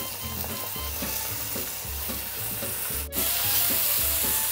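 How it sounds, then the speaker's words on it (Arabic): Rice and vermicelli are stir-fried in a pot with oil, producing a loud, steady sizzle broken by rhythmic scraping strokes of a spoon, with a sudden louder surge of frying partway through. "شوحت الرز مع الشعرية"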